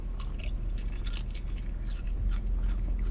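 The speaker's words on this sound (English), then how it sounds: "You hear the crunch." Crisp, crackly bites into a cup pepperoni pizza with curled, crispy-edged pepperoni, a few close crunchy snaps over a steady low background hum.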